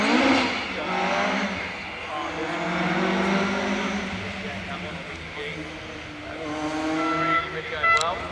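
An Egger Mark 1 race car at the Rallye Prescott 2025 hill event drives toward the finish, its engine droning and rising at a moderate distance while a commentator talks over it throughout.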